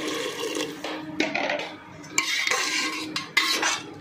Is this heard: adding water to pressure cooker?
yes